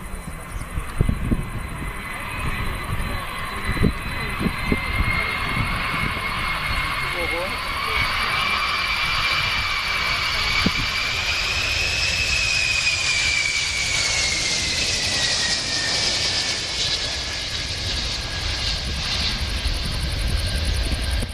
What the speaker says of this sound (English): This plane is flying very close to the ground.